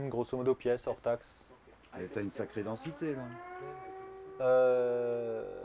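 A fire engine siren wails past outdoors in a farm field, its long rising and falling tone coming in after people finish talking and holding loud near the end.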